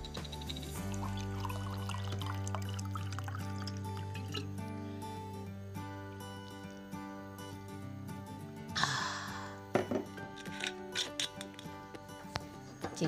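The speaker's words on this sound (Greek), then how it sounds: "να πιω λίγο νεράκι εγώ, μεταλλικό, φυσικό μεταλλικό νερό" Natural mineral water is poured for drinking, a close gurgling pour from a bottle over steady background tones, followed by a few clinks and taps.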